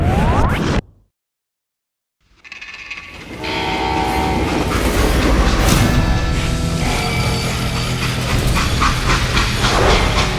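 A freight train in the Western video game Call of Juarez Gunslinger. A short moment of dead silence gives way to a loud, continuous rumble of rolling rail cars with clattering wheels, without any talking.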